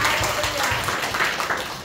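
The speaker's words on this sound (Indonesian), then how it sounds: "Tepuk tangan yang meriah bagi Tuhan" Congregation applauding during a church sermon in Singapore, a dense, steady wash of many hands clapping throughout, fairly close and full, with no voices standing out.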